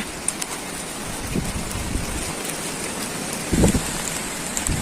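Heavy southwest monsoon rain pours steadily on surfaces around beehive boxes. It makes a dense, loud, continuous hiss with scattered heavier drops and occasional thuds, and no talking.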